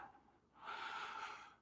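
One audible inhale through the nose or mouth, close and fairly soft, taken while lifting the right leg in the yoga locust pose during a Bikram class.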